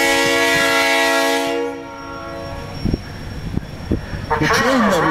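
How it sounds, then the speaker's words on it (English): A loud, sustained multi-tone horn from an ATSF FP45 diesel locomotive blares for about a second and a half, then cuts off, leaving rumbling train noise and clanks. "Cover your ears, and Ray's going to blow horns and pass in review."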